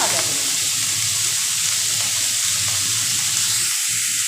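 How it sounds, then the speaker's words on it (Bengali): Potato and eggplant fry in a pan without spices, a continuous loud hissing sizzle held close and steady throughout. "জাস্ট একটুখানি আলু বেগুনটাকে ভাজা করে নেবো।"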